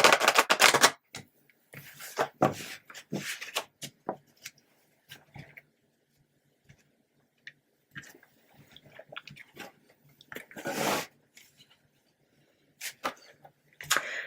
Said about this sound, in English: going to give it one more shuffle.